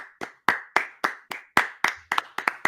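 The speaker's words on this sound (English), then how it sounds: "Let's give him a round of applause." Slow, evenly spaced hand claps, about a dozen sharp close claps from a single person, with no crowd.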